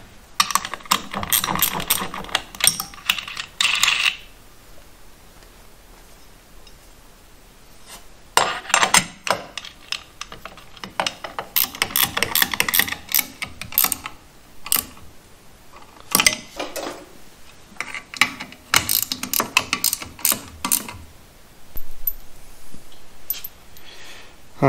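A ratchet clicks in quick bursts while mounting a proportioning valve bracket on a Chevy Nova, rapid close metallic ticking separated by short pauses and some fitting and handling noises.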